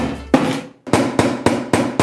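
A hammer drives a chisel into a cheap PC case: six sharp metallic blows, the first one alone, then five in a steady, evenly spaced rhythm. The strikes are close and loud, with no talk.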